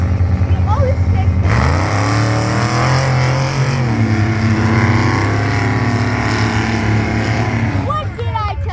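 A truck roaring through a mud run, its engine loud and close with a rising, revving drone that holds steady, then drops near the end amid crowd noise and voices.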